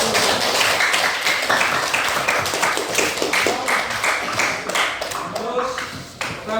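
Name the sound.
classroom applause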